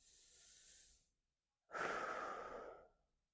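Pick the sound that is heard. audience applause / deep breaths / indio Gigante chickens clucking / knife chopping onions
deep breaths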